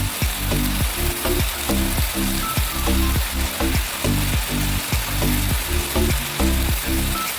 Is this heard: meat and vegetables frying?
yes